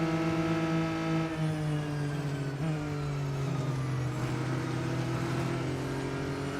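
Racing car engine from the Real Racing 3 video game, a steady close droning roar with harmonic pitch that dips and shifts as the car chases a rival, running continuously without talk.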